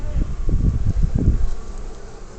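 Honeybees in a top bar hive that is getting ready to swarm give a steady close buzzing drone throughout, with no talking.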